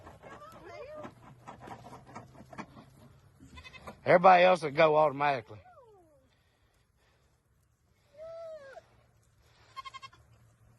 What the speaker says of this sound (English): The running of the goats.